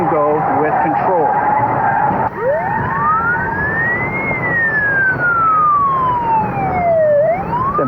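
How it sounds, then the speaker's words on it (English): A police siren wails in long rising and falling sweeps during a driving-training exercise, loud and close over steady car engine and road noise, with the tone swooping up and down across the whole stretch. "It's important for students to get exposure to the siren noise while they're driving"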